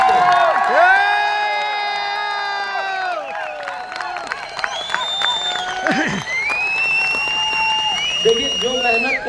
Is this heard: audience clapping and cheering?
yes